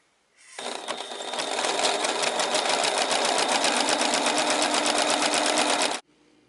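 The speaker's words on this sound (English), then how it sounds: "We're going to finish off the unfinished seam with an overcast stitch." A sewing machine running an overcast stitch along a shirt seam, a steady fast mechanical chatter that starts abruptly, holds even and loud for about five seconds, then stops.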